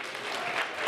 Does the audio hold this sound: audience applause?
yes